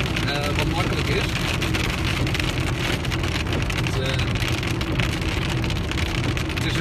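Steady, dense rain drums on a car during a thunderstorm in Zeeland, a loud, even hiss of drops on the roof and glass that runs the whole stretch, with muffled voices talking underneath.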